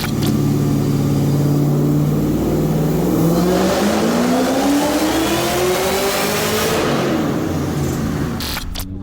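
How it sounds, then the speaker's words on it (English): A powerful supercharged LS2 V8 engine in a Porsche Cayenne revs up loudly with a rising supercharger whine, climbing in pitch before cutting off abruptly at the end. "just the boost just to spice it up, give a little nice sound, you know, supercharger"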